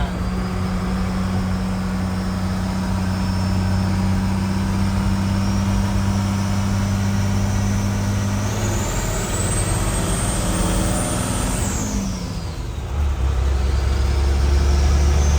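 A 1989 Chevy truck with a manual stick shift drives steadily on a test drive, its engine a loud continuous hum with road noise throughout, briefly swelling as it works harder near the end.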